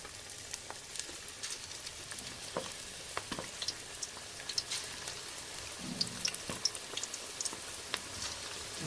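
Cabbage pakoras fry in hot oil with a continuous crackling sizzle dotted with sharp pops and spits, close and steady, with no talking.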